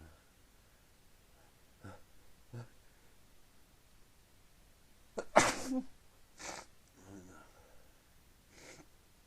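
Several sneezes into a handkerchief, one loud and forceful in the middle, others softer and muffled, with small sniffs and breaths between them.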